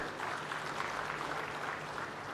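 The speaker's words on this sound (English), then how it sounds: "I'd like to give applause to the two gentlemen." Audience applause at the Africities Summit, a continuous, moderately distant wash of clapping that holds steady at an even level.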